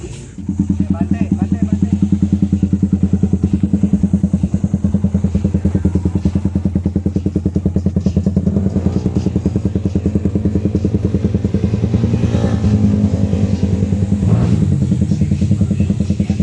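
Loud motorcycle engines rumble steadily and close by at a track day fun race, holding a constant droning roar with slight revving swells throughout.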